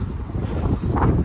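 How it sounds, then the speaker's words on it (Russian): Wind picks up outdoors during a walk in Kazan, a steady, rough low rush buffeting the microphone with a slight swell toward the end and no voices. "все уходят обратно, потому что ветер начинается"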